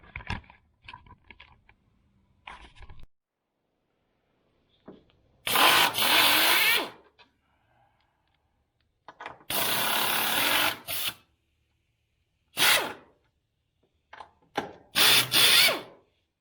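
An air impact gun zips nuts off a Mercedes SL 550 strut in several short, loud rattling bursts with silent gaps between, alongside light clinks of parts and tools nearby.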